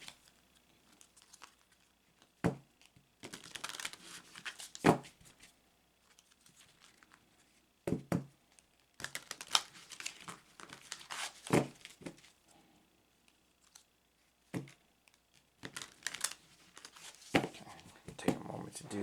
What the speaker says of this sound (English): So this is the way I shuffle Oracle cards.